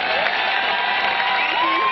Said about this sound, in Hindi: एक बार इस रीना के लिए तालियां बजा दीजिए प्लीज आप.